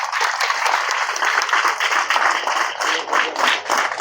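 Students at a government school for the blind applaud together, a loud, dense burst of clapping that carries on steadily without a break, with no speech over it.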